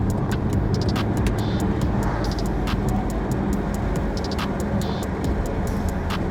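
A Dodge Challenger R/T with a V8 engine runs loud and continuous, a dense rumble that holds steady, with repeated sharp clicks or ticks above it.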